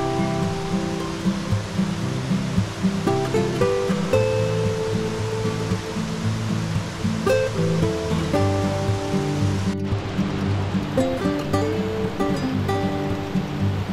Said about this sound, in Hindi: बलोनगा की 3 झीलों से आता साफ शफाफ पानी तेजी से पत्थरों से सर पटकता अपनी मंजिल तांगीर नाले की तरफ रवां दवा है।